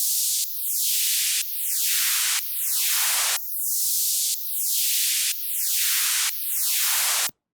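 A sample run through FabFilter Volcano 3's resonant modulated combo filter preset, heard as seven repeating bursts of hissy noise, each with a sweeping resonant tone falling from high to low, loud and alone, ending abruptly.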